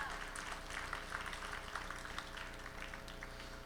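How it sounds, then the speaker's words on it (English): A concert audience at the 2016 Standing Rock Mni Wiconi benefit applauds, a dense, continuous wash of many hands clapping with a little crowd murmur, steady throughout. "give a round of applause if you met a beautiful person while being here"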